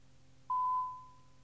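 A single clean electronic beep from an answering machine on a cassette recording sounds once, sustained for about half a second and then fading, over faint tape hiss.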